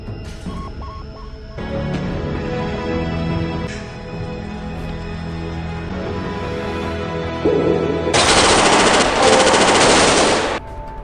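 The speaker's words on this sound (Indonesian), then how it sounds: "mendapat tembakan berondong dari para polisi" Police open fire in a crime drama scene, with a rapid machine-gun burst near the end layered over a loud, droning musical score.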